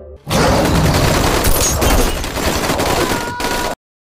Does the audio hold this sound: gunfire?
yes